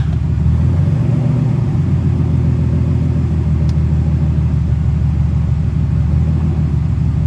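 A Mercedes SL600 engine idles steadily with its transmission engaged, giving a loud, continuous low rumble that holds even throughout, with no speech.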